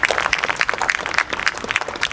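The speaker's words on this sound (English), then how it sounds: "Let's give a rousing and robust round of applause to my wife and our First Lady" An audience at a city's State of the City address applauds, a dense steady clapping of many hands for about two seconds.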